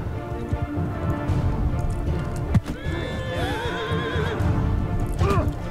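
A horse whinnies loudly and at length in the medieval combat game Bannerlord, over galloping hooves and the clatter of a battle.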